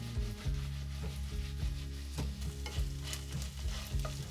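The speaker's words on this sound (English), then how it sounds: "shallow fry the tofu in a non-stick pan until golden and crisp on the outside" Tofu cubes shallow fry in oil in a non-stick pan, sizzling steadily with a repeated scraping stir roughly every half second, close and fairly loud, with no voices.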